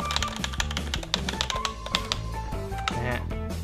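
Keys clack rapidly on a Fantech Optimax MK885 mechanical keyboard close up, a quick irregular patter of crisp taps over faint background music.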